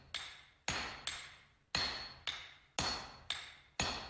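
A small hammer strikes samurai sword steel during hand forging, eight loud, ringing metallic blows at an uneven, unhurried pace, each ending in a short decaying ring, close by with no talk.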